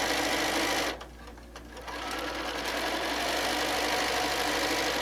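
A sewing machine stitches quilt pieces cut on the bias, running steadily and loudly with a brief pause near the start before the motor hums on again, no talking.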